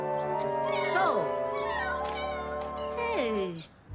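Several high, sliding meows from cartoon kittens in an animated children's show, close and clear, with rising and falling pitch and a music-like tonal bed underneath.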